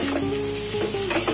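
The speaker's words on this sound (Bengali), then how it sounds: "সরিষার তেলটা গরম হয়ে গেলে এবার আমি এঁচোড়টাকে ভালো করে কষে নেব।" Young jackfruit sautéing in hot mustard oil makes a brief, close, steady sizzle with a faint stirring scrape.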